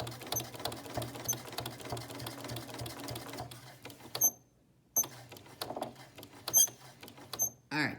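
Domestic sewing machine stitching binding onto a quilt, a loud, fast mechanical whir that runs steadily, stops briefly, then resumes in short bursts with a few small clicks.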